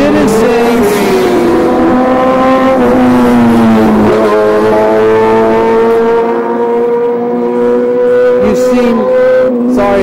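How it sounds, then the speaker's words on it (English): Loud motorcycles roaring past in a street, with a strong sustained engine drone and shifting pitch that rises and falls as they go by, filling the whole stretch. "Sorry, it's really loud with those motorcycles."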